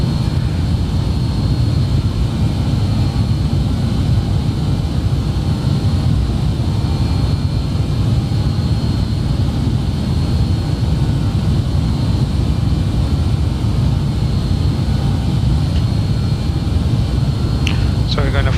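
Simulated BAe 146 jet engines drone steadily in cruise, a dense, constant low roar with a faint whine on top that fills the whole stretch without letting up.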